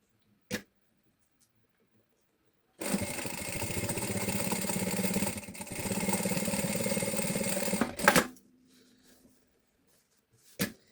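A sewing machine runs for about five seconds as it stitches a seam along the top of a bag to close its opening, a steady mechanical whir framed by a few sharp clicks in otherwise quiet surroundings.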